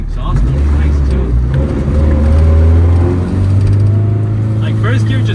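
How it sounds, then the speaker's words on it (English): A modified Honda CRX's exhaust roars loudly from close by as the car pulls hard through first gear on San Francisco streets, engine note climbing and holding strong for several seconds. "And the exhaust is nice too."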